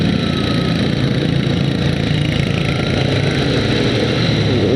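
An MX King motorcycle engine runs at a steady idle, loud and close, with an even, unbroken mechanical chug and no talking.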